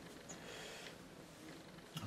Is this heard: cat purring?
yes